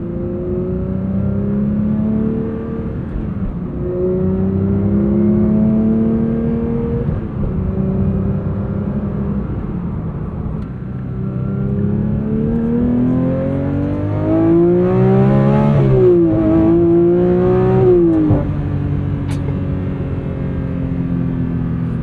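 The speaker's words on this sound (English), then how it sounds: "Every different pitch of this 4-liter flat 6 is its own version of perfection." A 4-liter flat-six in a 2025 Porsche 911 GT3 Touring revs loud and close, its pitch climbing and sweeping through several rising and falling runs with no talk over it.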